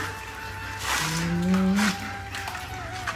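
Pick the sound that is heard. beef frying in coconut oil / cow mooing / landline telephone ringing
cow mooing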